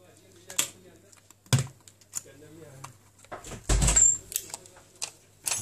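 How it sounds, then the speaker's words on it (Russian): Protective transport plastic film is peeled from a Samsung Galaxy Alpha SM-G850F phone, giving close crinkles, taps and short rustling tears in bursts while someone speaks intermittently nearby. "Удаляем транспортный пластик."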